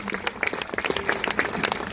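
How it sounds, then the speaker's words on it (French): Audience applauding sailor Manuel Cousin after his Vendée Globe race, a short burst of scattered, uneven clapping from a modest crowd, close by, with faint voices mixed in. "Vous pouvez l'applaudir, s'il vous plaît."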